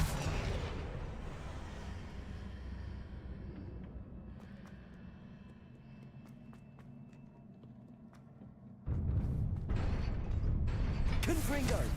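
Heavy stone pillar shifted by a spell in Hogwarts Legacy, a long low rumbling grind with faint mechanical clicks, easing off midway before a louder surge of rumble near the end.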